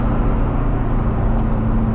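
A Chevrolet car engine idles steadily after being revved, a constant low drone with a harmonic hum, close and loud, with no talk.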